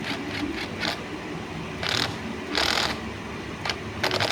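A clutch basket nut being tightened on a Honda CRF150 motorcycle, with bursts of close metallic ratcheting and clicking mechanism sounds repeating in short runs over a low workshop hum.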